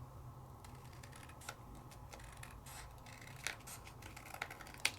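Scissors trim cardstock in a quiet room with a few soft, scattered snips and crisp clicks spaced a second or so apart, faint and alone, no voices.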